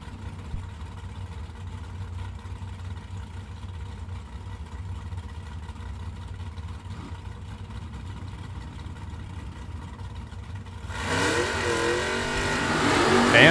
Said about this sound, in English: And burning out right now, this is David Bones Johnson